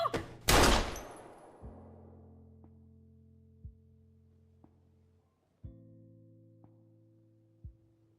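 A single loud gunshot in the video game Life is Strange bursts out near the start, followed by a low, droning electronic tone with soft periodic clicks and swells.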